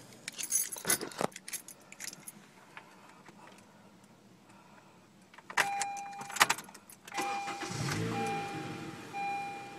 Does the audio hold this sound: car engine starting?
yes